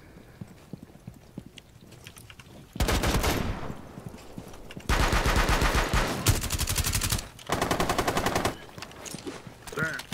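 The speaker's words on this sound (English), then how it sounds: "I was just randomly shooting" Rapid automatic gunfire in the Rainbow Six Siege video game, loud and close, comes in three sustained bursts after a quieter stretch of faint shots and movement.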